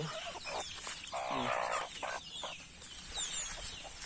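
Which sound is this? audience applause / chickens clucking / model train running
chickens clucking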